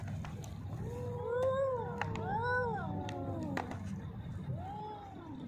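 Cats meow and yowl in drawn-out, rising and falling cries during a tense face-to-face standoff, several calls overlapping and trading back and forth against a low background hum, moderately close.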